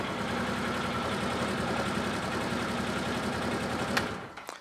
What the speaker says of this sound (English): Just let it idle for a few seconds.